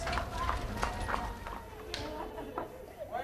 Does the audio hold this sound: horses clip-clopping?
yes